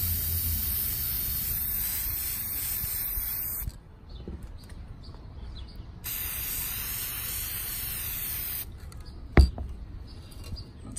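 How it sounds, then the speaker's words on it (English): Aerosol spray paint hissing onto a wine glass outdoors in a backyard, long steady bursts of close, bright spray separated by quiet pauses, with a short sharp knock near the end. "And now I'll let you watch as I spray the glass."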